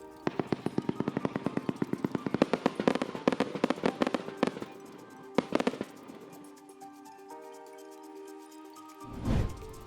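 A rapid volley of crackling bursts from a single compound firework pops in quick succession, thinning out into scattered bangs, then a final deeper boom.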